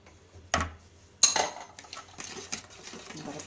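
Cake batter is whisked in a bowl for a sponge roll, with scattered metallic clinks of the whisk against the bowl over quiet background sounds.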